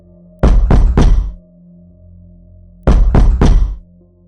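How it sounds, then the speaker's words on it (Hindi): Heavy knocking on a door, two loud groups of three thudding knocks separated by a pause of over a second, close and alone over a faint low hum. "इस बार खटखटाने की आवाज भारी थी।"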